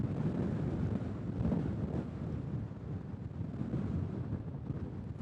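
Steady wind buffets the microphone on an open hill with windmills in La Mancha, Spain, a continuous low rumbling roar with no voices.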